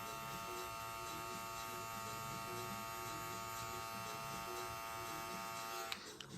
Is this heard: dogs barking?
no